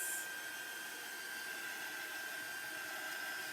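A heat tool or hair dryer runs steadily close by, drying handmade journal ephemera, with a constant whooshing blow and a faint high whine throughout and no voices.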